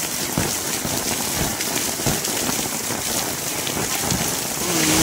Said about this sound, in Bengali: দেখুন কেমন বৃষ্টি হচ্ছে দেখুন।